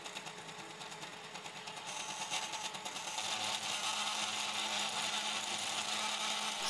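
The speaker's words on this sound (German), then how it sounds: "Spiel in der Mechanik führt zu deutlich hörbaren Schwingungen, ein eindeutiges Anzeichen für unnötigen Verschleiß" A cheap 3D printer fitted with a handmade extruder runs steadily, giving a continuous mechanical whir and buzz with rattling vibration from loose mechanics that grows slightly louder midway, with no voices.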